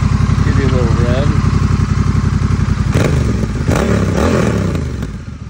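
Close-up, a warm 2022 Honda Rebel 1100 motorcycle idles with a loud steady throb, then takes a couple of quick throttle blips that rise and fall before it settles back to idle.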